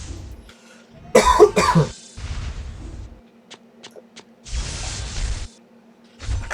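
A person coughs in several harsh, close bursts, with a loud cluster early on followed by shorter coughs and throat clearing spaced across a few seconds, with no speech.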